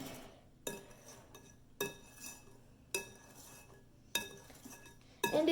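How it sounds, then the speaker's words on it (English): A whisk knocks against a bowl of set chocolate pudding, giving five separate clinking strokes spaced about a second apart, close and clear, each one fading quickly into quiet. "Give it a quick little whisk."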